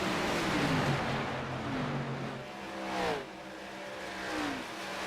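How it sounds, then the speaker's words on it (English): A dense pack of stock cars racing at Kansas in an online ARCA-style racing game, engines droning and rising together in overlapping pitches, steady and loud throughout with one car's note swelling past near the middle. "Man, look at this gaggle of cars, guys all over the place."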